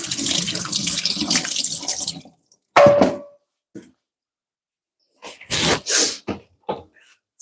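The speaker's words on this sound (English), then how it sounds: "rinse this off." Tap water rinsing vegetables in a kitchen sink while cooking oxtail and rice and peas, a steady close stream that stops, followed by scattered knocks, splashes and handling sounds.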